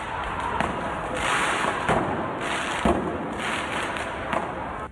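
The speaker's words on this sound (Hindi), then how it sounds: "उन्होंने सड़क पर पटाखे छोड़ दिए।" Firecrackers set off on a street by protesters, several sharp bangs and cracks scattered over a dense crowd roar, with a few louder pops standing out.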